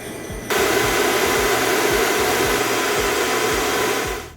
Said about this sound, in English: If you wanna make it a little bit easier, I'm using a blowtorch.